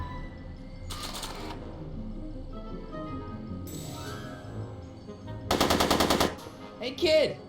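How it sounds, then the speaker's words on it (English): Rapid machine-gun bursts in the Back to the Future video game, two short bursts early and a louder burst later, mixed with game sounds and a brief exclamation. "Are you shooting at me?"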